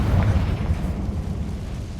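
In Hogwarts Legacy on PS5, a Confringo spell bursts in a loud, deep blast that rumbles and fades over about two seconds.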